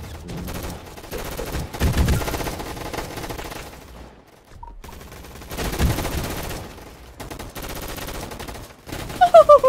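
Gunfire in a Roblox gunfight arena game: scattered bursts of shots and rattling automatic fire come in two louder clusters with quieter gaps between, then a few sharp close cracks at the very end.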